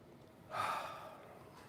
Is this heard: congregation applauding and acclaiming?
no